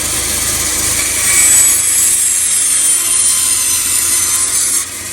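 Bandsaw slicing wood off a carved bluebill duck decoy blank, a steady close buzzing rasp that swells briefly in the middle and holds until it drops off near the end.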